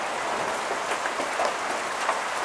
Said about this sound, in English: So here's a June 3rd thunderstorm, which we never used to get.